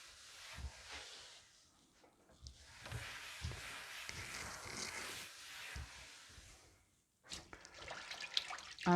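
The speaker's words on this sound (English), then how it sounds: "And we'll just give it another bit of a rinse." Kitchen tap running and splashing into a sink during rinsing, a steady wash of water broken by short clatters and knocks, with a pause near the end before louder clunks.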